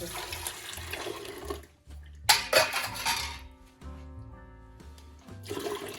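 Jamaican sorrel drink strained through a strainer, with liquid pouring and splashing close by in short bursts, plus clinks of a metal strainer and containers between pours; no one speaks.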